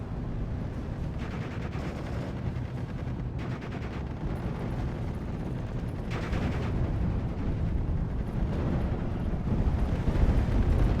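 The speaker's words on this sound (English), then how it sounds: "they're hitting the Puma, nailing it with all these machine guns." Machine gun fire and heavy battle noise from the WWII strategy game Steel Division 44, aimed at a closed-top Puma armored car: a dense, continuous roar of gunfire and explosions that builds slightly in loudness, with no voices.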